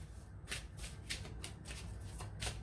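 Tarot cards shuffled by hand in a quick series of crisp riffling bursts, close and fairly quiet, with no talk.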